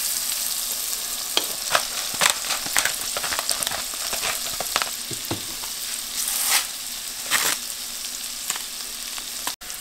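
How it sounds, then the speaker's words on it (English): A big pat of butter melts and sizzles in a pan, a continuous crackling fry broken by frequent sharp scrapes and clicks as it is stirred around. "in with a big pat of butter. Stir that around a little bit, let that start just starting to get melted there."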